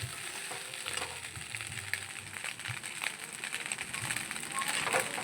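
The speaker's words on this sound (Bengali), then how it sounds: "লাস্টের দিকে গ্যাসটা একটু জোরে করে দিলাম, করে দিয়ে এরকম সুন্দর লাল লাল করে লোটে মাছের ঝুড়ো করে নেব" Lote fish, Bombay duck, frying hard in a pan over a high gas flame, giving a steady loud sizzle and crackle with faint stirring scrapes throughout.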